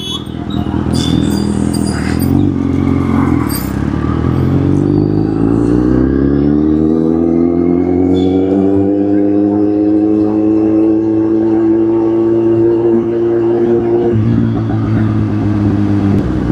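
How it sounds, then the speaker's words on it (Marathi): City road traffic in Pune, with cars and motorcycles: a loud, close engine drones and climbs steadily in pitch as it accelerates, over a constant rumble of surrounding vehicles. "बघा हे ट्रॅफिक"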